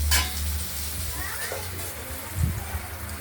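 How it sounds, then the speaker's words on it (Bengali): Potatoes and shrimp fry in oil in a pan with a steady, close sizzle. Occasional stirring scrapes and a soft thump of the utensil against the pan break through the hiss. "এটাকেও আমরা আলুর সঙ্গে ভেজে নেব।"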